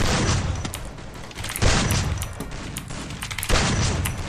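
Rapid bursts of gunfire from a shooting video game fill the clip, with heavy booming impacts at intervals and dense crackling shots between them, loud and continuous.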